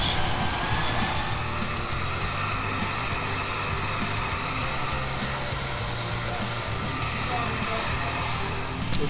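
A heat gun blows steadily for several seconds while shrinking heat-shrink tubing over a wiring connection on a fuel pump setup, a continuous broad airy whoosh with a low hum underneath, close and loud throughout.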